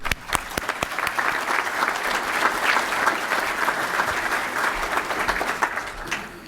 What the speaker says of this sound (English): And I'd like just a round of applause for Lisa Edgar, who takes hundreds of reserv